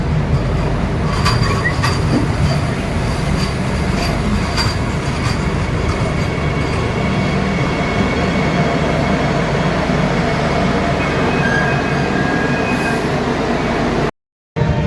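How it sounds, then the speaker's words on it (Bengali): A Garib Rath passenger train pulls out of Kamakhya station, its loud continuous rumble and rattle of wheels on rail filling the space with light clacking and a faint squeal, cutting out briefly near the end. "বেশ কিছুক্ষণ দাঁড়িয়ে থাকার পর বন্দে ভারত পাস করার পর ফাইনালি কামাখ্যা থেকে ট্রেন ছাড়লো"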